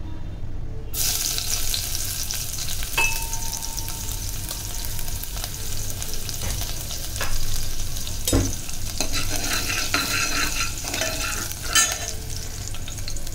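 Crushed garlic fries in hot coconut oil with a loud, steady sizzle that continues throughout, broken by occasional scraping stirs and spatters close by.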